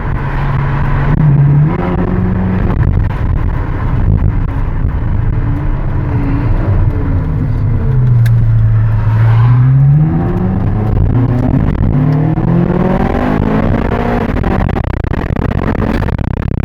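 A 2010 Ferrari California accelerates hard on a test ride, its engine rising in pitch through the gears with brief dips at each shift, loud and steady from inside the car, with no talk.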